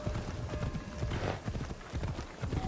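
Horse hooves gallop in Assassin's Creed Shadows, with a rapid, steady clip-clop rhythm of close, loud hoofbeats over a continuous rumble.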